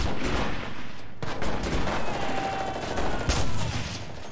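Gunfire in the WW2 shooter Enlisted, several sharp rifle shots and bursts cracking over a busy battlefield din, with one loud report near the start and another strong one later.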